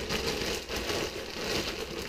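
Frozen broccoli pushed into a plastic bag, making a steady, close crinkling and rustling that fills the whole short stretch with no talking.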